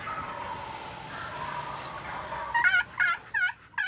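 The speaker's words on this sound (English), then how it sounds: "Suddenly, the two toms they'd seen earlier got fired up." Wild turkey toms gobble in several rapid, rattling bursts at close to moderate distance, preceded by softer bird calls in a quiet outdoor setting on a cold, snowy morning.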